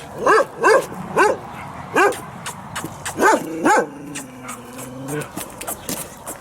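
A dog barks repeatedly at close range, sharp yaps in an uneven rhythm, then trails off into a few whiny whimpers.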